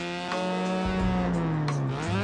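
A rotary-engined car revving in the BeamNG driving game, a loud, continuous, buzzy engine note that holds steady and then climbs again, with no talking over it.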